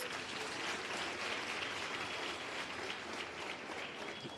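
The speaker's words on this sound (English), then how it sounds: "give yourself a round of applause." Dense, steady applause from an audience of learners at the launch of a skills development centre, a continuous even patter of many hands filling the room with no voices over it.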